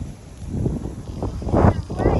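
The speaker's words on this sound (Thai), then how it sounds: "โทรศัพท์จะปิวเนี่ยลมแรงขนาดนี้ดูดิ" Strong wind buffets the microphone in steady low roaring gusts that swell louder toward the end, with a voice talking partly under the noise.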